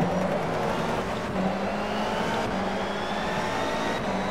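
A BTCC Honda Civic NGTC race car in rFactor 2 drones steadily at high revs, its engine whine continuous and loud with slight pitch shifts throughout, and no talk.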